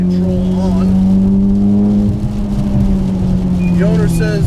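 A modified Mitsubishi Evo X with traction control off is driven hard around a wet race track, its engine droning steadily up close with shifting pitch, while someone talks over it throughout.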